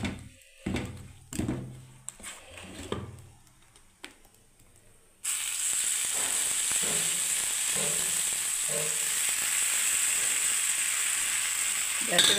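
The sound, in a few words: oil sizzling as mung dal chilla fries in pan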